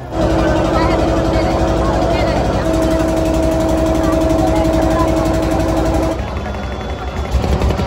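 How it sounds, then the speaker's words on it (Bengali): A boat engine drones steadily and loudly throughout a short river crossing from Swarupganj ghat, holding a constant tone before dropping off near the end. "এই হচ্ছে আমাদের নৌকা।"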